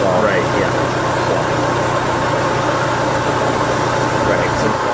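A car engine fitted with a hydrogen conversion kit idles in a steady, even rumble with a continuous mechanical hum, close and loud, while people talk nearby.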